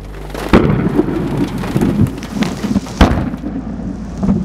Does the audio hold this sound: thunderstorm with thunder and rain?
yes